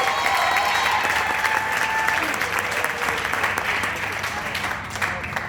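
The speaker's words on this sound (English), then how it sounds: "A big round of applause, ladies and gentlemen, for a great job, well done." A large crowd applauds steadily, the clapping holding strong for several seconds before easing off slightly near the end.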